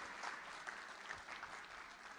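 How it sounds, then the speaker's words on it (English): A keynote audience claps continuously, a dense steady wash of many hands at moderate, fairly distant level, with no voices over it. "Can I hear a bigger clap?"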